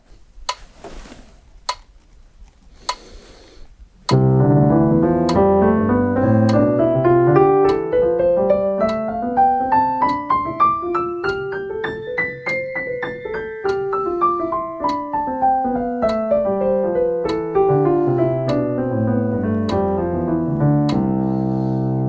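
Piano plays overlapping rising and falling patterns in two interlocking rhythms, a three-against-four polyrhythm, steady and moderately loud, after a few soft taps at the start.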